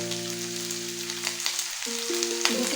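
Hot oil sizzling in a pan, making a steady, close hiss with light crackles, while background music tones play underneath.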